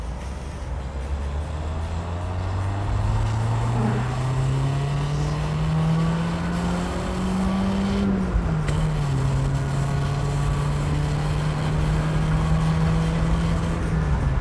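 A 1996 BMW Z3 with its 1.9-liter four-cylinder engine pulls steadily from inside the cabin, its engine note climbing slowly through each gear with a brief dip at a shift before rising again, loud and continuous.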